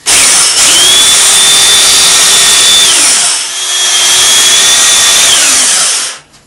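A small power tool sands a salmon carving of plum wood, its high motor whine running steadily for about three seconds, dipping briefly, then running again before cutting off, loud and close.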